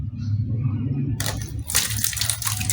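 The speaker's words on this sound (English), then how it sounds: "pour it out in an aluminum container" Water pours from a jug into an aluminium container, starting after a quiet low hum and turning into a loud, broad splashing gush that runs for well over a second with uneven surges.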